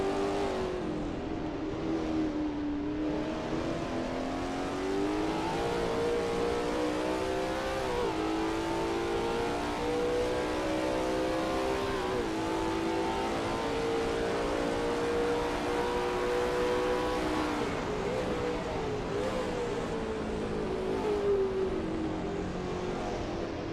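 A Lola T70 MkII Spyder race car engine at Sebring in a racing sim drones loudly and continuously, its pitch rising and falling through gear changes and corners without any voices.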